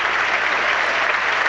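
AFC Wimbledon fans at their home ground applauding a player as he is substituted off against Ipswich Town, a dense, continuous wash of clapping from a large stadium crowd, steady and fairly loud throughout.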